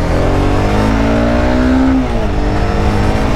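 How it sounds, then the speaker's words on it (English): A small single-cylinder motorcycle engine revs up loud and close, its pitch climbing steadily for about two seconds before dropping off, with a rough, vibrating drone underneath and no talk. "this little single cylinder motor works really good, but has a little bit of vibration"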